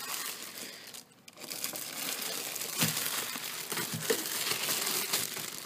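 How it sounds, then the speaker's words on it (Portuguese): Plastic wrapping being pulled and crinkled off a brand-new gaming keyboard, a continuous close crackling rustle with a brief pause near the start, no voices. "Já tirei o plástico."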